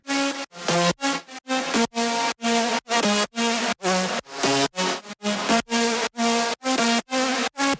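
A bright, stacked future house synth lead plays a rhythmic melody in short repeated chopped notes, loud and continuous with brief gaps between phrases.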